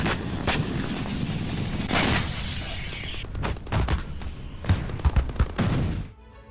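Katyusha rocket barrage by Hezbollah striking Israel at Beit Hillel, with rapid repeated blasts and crackling gunfire-like booms, dense and loud, with a few heavier thumps near the end before a sudden cutoff.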